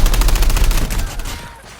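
Rapid automatic gunfire rattles in a squad shooter video game, a loud burst of many quick shots that fades away within two seconds.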